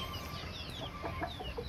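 Chickens cluck softly inside a leafy, garden-like chicken coop, a few short clucks and chirps over a steady background hum, faint and fairly distant.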